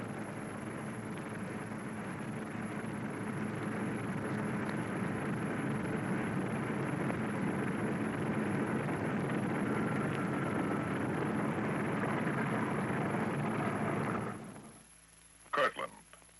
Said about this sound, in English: bomber ready, it moves off to wait its takeoff time under double guard.